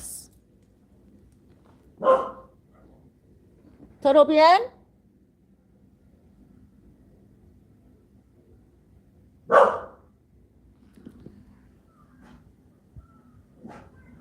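A dog named Noche barks in a few separate loud bursts spread across a quiet stretch, one with a whining, drawn-out tone, while a person briefly asks a question.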